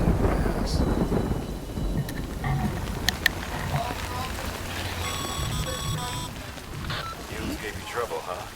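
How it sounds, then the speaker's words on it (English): Steady rain with rumbling thunder in the video game Death Stranding, a continuous wash of downpour with a couple of sharp cracks, while a voice speaks over it. "Good thing it was raining."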